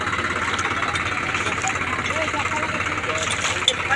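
A tractor engine idles in a field in a steady low rumble with a broad mid-range hum, close and continuous, with faint voices over it.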